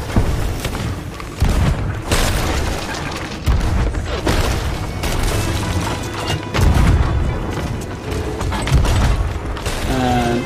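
Repeated booming shots and crashing impacts from a Sea of Thieves ship battle, with loud cannon-like thuds every second or two over a dense, clattering mechanical din and occasional talk.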